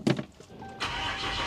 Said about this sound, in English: let me go start the truck up and we'll see what we're putting out